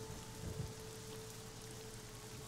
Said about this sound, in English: The rain isn't gonna get under there.